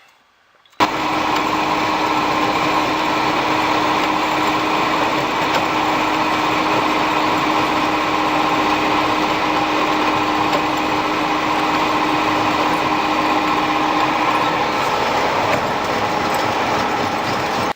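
After a brief silence, a combine's feed house drum starts and runs with a steady, loud mechanical hum and whir, no metal-on-metal sound, unchanging to the end.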